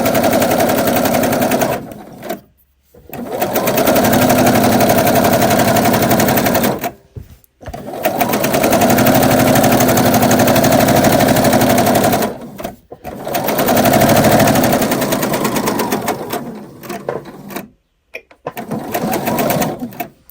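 A sewing machine running loud and close as it stitches rows of shirring, in long steady bursts of rapid needle clatter separated by brief pauses between rows.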